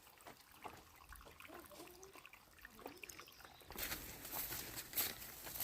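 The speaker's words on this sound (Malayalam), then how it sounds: "ഊറ്റുവെള്ളമാണ് വരുന്നത്, ഊറ്റുവെള്ളം" Spring water seeps out and trickles over rocks in a forest beside a lake, a faint, steady dribble that grows slightly louder and brighter toward the end.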